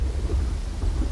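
Rain and thunder over a desert in Uru, a steady low rumble of thunder beneath a soft wash of rainfall, brief and continuous, with no voices.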